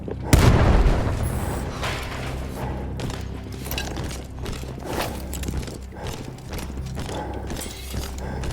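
A gun blows up in the Battlefield 1 war game with a loud, heavy boom up front, followed by a long rumbling tail of scattered crackles, debris and battle noise.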